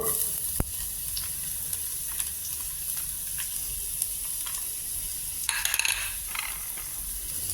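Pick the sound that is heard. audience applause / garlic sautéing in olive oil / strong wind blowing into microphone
garlic sautéing in olive oil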